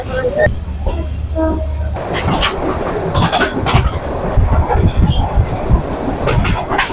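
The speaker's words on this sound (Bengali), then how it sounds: "আমাদের ট্রেনটি ঢাকা কমলাপুর রেলওয়ে স্টেশন থেকে ছেড়ে দিয়েছে" A Kurigram Express passenger train leaving Dhaka's Kamalapur station at night gives a loud, steady rumble from inside the carriage, with rhythmic wheel clatter and bursts of rattling throughout.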